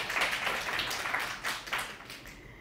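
Audience at a seminar session clapping together after being invited to applaud, a fairly soft patter of hands in uneven bursts that fade toward the end, with no talk over it.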